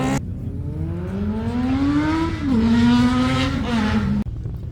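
Can-Am vehicles driving past on a winter road in Yorkshire: a close, loud engine note rising in pitch through acceleration, dipping and rising again as they pass, then cutting off abruptly, no talk.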